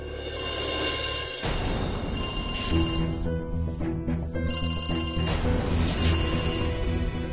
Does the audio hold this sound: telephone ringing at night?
yes